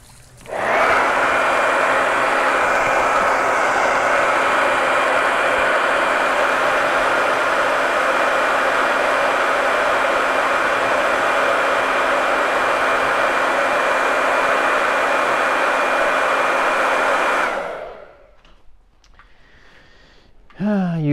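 Close, loud blower of a craft heat tool or dryer drying a transfer, running steadily for about seventeen seconds before cutting off, with faint voices after.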